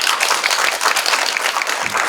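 Steady applause from a seated audience at a Korean community talk show on single-person households, many hands clapping in a dense, even patter that fills the room without a break.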